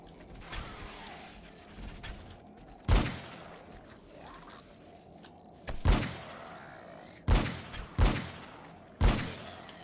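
Colt Python revolver shots in 7 Days To Die, about six loud, sharp reports spaced irregularly over ten seconds, with mechanical creaks and clicks between them against a quiet background.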